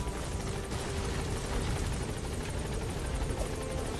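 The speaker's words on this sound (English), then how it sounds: "There's the helicopter." A helicopter's rotor chops steadily in the Metal Gear Solid 5 video game, a continuous whirring thrum at moderate volume with no talking over it.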